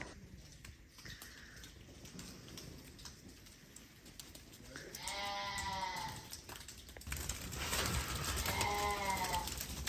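Lambs and sheep bleating after weaning, several calls at moderate distance, with a steady outdoor background and other animal noises around them.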